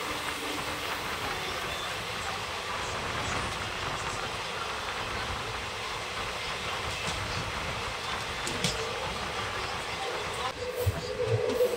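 The Nabadwip–Balurghat Express runs on its rails with a steady, continuous rumble and a low clatter of wheels, heard from on board the train, with faint voices in the background.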